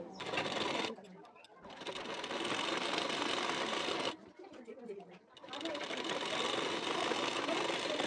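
A sewing machine stitches a waistband on a blouse in two long, loud, steady runs split by short gaps.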